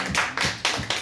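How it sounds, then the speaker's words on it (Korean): A church congregation claps in rhythm during a Sunday afternoon service, with three or four bursts of steady, close hand claps filling the short moment. "주님 앞에 모든 영광 박수 돌립니다"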